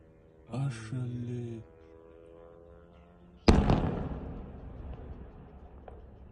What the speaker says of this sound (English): Look at that massive explosion there from that Ukrainian drone.